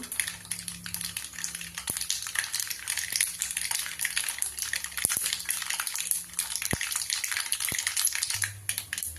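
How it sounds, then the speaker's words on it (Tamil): Mustard seeds splutter and pop in hot peanut oil in a pan, a faint crackling sizzle with scattered sharp pops throughout, close by, with no talking. "கடுகு பொரிஞ்சுக்கிட்டே இருக்குது."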